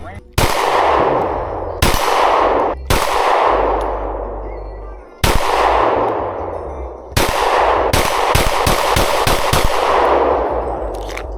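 Loud, close gunshots from a .30 magnum rifle with a 19X scope, fired one at a time with long booming decays between them, then a quicker burst of several shots near the end.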